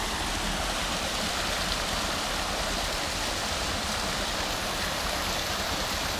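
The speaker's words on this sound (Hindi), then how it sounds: "अंकित यहाँ पानी भर रहे हो क्या?" Water rushes steadily while a bottle is filled at a spot near mines, a loud, continuous hiss with no breaks and no voices.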